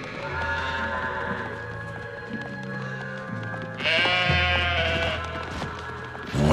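Sheep bleat repeatedly in an animated cartoon scene, with loud, close, wavering cries that overlap and carry over a background music score.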